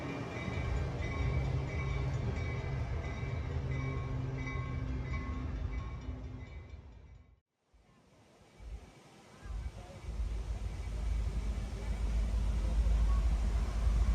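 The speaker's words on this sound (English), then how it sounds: "The next train returning into Jim Thorpe is WHJT, the return of the Lehigh Gorge Scenic Railway's bike train." Lehigh Gorge Scenic Railway bike train, led by a GP38-2 locomotive, arriving into Jim Thorpe: a steady rumbling roar of the passing train with a brief dip midway, then heavy low rumble returning, heard from nearby.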